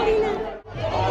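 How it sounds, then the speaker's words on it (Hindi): A large crowd gathers at the entry gate of a Kalash Yatra religious procession in Shahpura, Jaipur, with a dense, loud wash of overlapping chatter and voices close by, dipping briefly before swelling again. "भीड़ लगी हुई है भैया बहुत ज़्यादा यहाँ पे"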